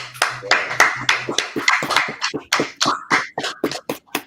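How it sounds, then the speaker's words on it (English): Sharp claps ring out in an irregular burst after a class, several hands clapping close by with a quick, uneven rhythm and no talk. "after class, clap it up"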